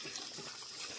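Faint, steady rush of water being poured to soak a wooden plough part so the wood swells tight, a continuous splashing hiss with no talk.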